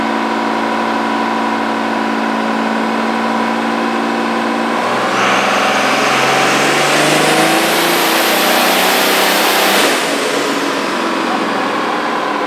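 A 5th gen Dodge Cummins diesel truck with a dual wastegated compound turbo setup running hard on a Mustang dyno, its loud engine climbing steadily in pitch as it revs up, then holding near peak before easing off.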